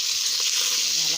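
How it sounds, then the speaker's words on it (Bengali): Whole cumin seeds, two bay leaves and a green chili dropped into hot oil in a kadai, a brief bright sizzle, close and steady. "এখানে দেবো কিছু গোটা জিরা ফোড়ন, দুটো তেজপাতা, একটা কাঁচা লঙ্কা"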